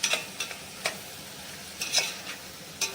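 A spatula scraping and stirring masala into sprouted field bean (val) curry in a pan, several quick scrapes and taps over a faint sizzle, close and quiet without talk.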